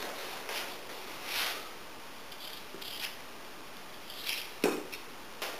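Knife cutting peeled, rinsed potatoes into cubes on a board, a few sparse soft chops and light clicks in a quiet kitchen.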